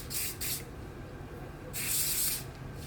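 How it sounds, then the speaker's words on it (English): Oil sheen spray can misting onto hair in two short, close hissing bursts, the second slightly longer, with quiet room tone between them. "Put a little bit of oil sheen just on my hair right here."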